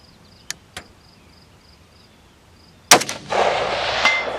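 A .223 precision rifle fires once, a sharp loud crack followed by a sustained rumbling report, after two small earlier ticks; shooting at a steel target at 453 yards, the distant ring of the steel is not clearly separated.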